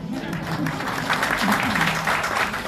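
Audience applause at a public meeting in Chiplun, a broad crackle of clapping that runs steadily under a voice speaking over it.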